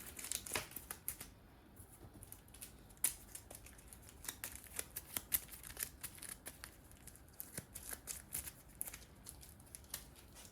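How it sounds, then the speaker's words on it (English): Rapid papery riffling and snapping of Battlestar Galactica board game cards being shuffled, uneven bursts of crisp flicks close by, with no talking. "So shuffle these up."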